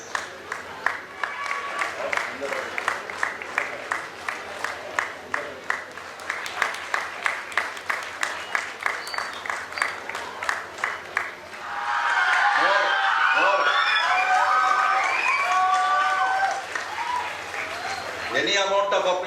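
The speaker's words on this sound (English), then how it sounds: "Any amount of applause will be short." Audience at a school event claps steadily in a long run of rhythmic applause, then swells into a denser wash of clapping and crowd noise toward the end.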